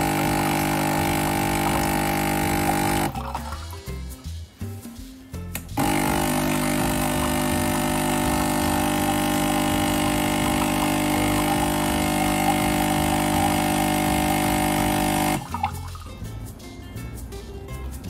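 A new Nespresso Creatista Plus coffee machine on its first run, a loud, steady pump drone with liquid gurgling that breaks off twice into quieter dripping and sputtering gaps before resuming.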